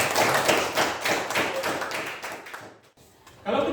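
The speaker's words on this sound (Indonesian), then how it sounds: "Ya, kita beri aplaus untuk Alvin." Classroom applause for a student, a burst of many hands clapping at close range for nearly three seconds, breaking off into a brief silence before more sound resumes.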